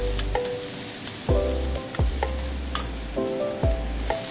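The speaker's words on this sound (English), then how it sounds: "Then add in the peppers. Stir fry" Peppers stir-frying in a hot pan for chicken chow mein, a steady loud sizzle broken by repeated scraping strokes of a turner across the pan, with no talking.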